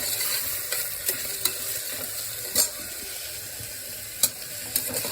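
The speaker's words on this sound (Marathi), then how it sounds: "मी ह्याच्यामध्ये ना 4 कांदे उभे चॉप करून घेतले आणि ते सुद्धा छानपैकी परतून घेऊया" Chopped onions sauté in a hot pan with a continuous close sizzle, broken by several sharp scrapes and clinks as a spatula stirs them.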